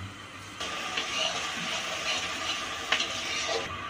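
Steady sizzling of oil in a pan while ingredients fry for a Bengali-style fish curry, a continuous hiss that swells slightly and carries a few soft stirring scrapes, with no talking.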